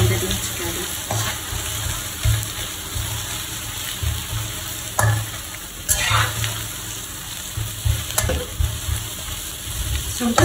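Chili and onions fry in a pan with a steady sizzle while being stirred, scraping clicks and spoon knocks sounding close over the crackle.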